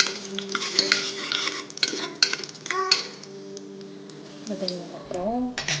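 A pan stirred while making chapati, with metal utensil scrapes and clinks against cookware in close, irregular bursts, a faint sizzle underneath and a voice speaking at the end.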